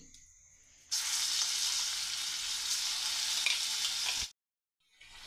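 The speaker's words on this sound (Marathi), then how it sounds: "आता तेल सुटेपर्यंत आपल्याला छान असा परतवून घ्यायचा आहे" A spice masala mixed with gram flour sizzles and fries in hot oil, a loud, steady hissing crackle that starts abruptly after a quiet moment, holds for about three seconds, then cuts off sharply.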